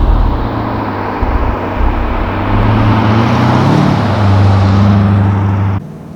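A 1987 Mercedes-Benz 560SL with Carobu Stage One tuning, its engine droning steadily and rising in pitch as it revs up, loud and close, then cutting off abruptly near the end.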